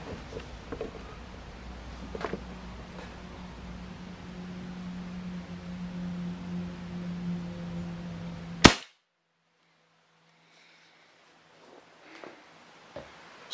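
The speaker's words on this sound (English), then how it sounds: "Let's see what kind of noise this gun does without the dampener or" A Crosman 2400KT air pistol fitted with a TKO muzzle brake and no silencer fires a single loud, sharp crack after several seconds of steady background hum, followed by near silence and a few faint clicks.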